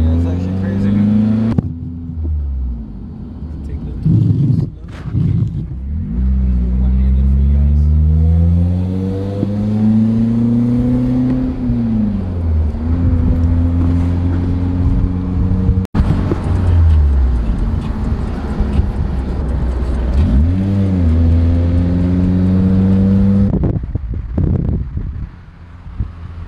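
A manual-clutch car's engine revs and falls repeatedly as gears are shifted and the car gets rolling, loud and close with heavy wind noise over the microphone and a person talking at times.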